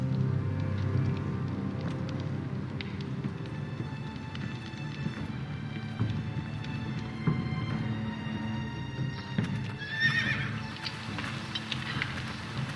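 Horse hooves clopping in the Game of Thrones Telltale video game, a steady patter of footfalls over a low ambient bed, with a brief higher whinny-like call late in the sequence.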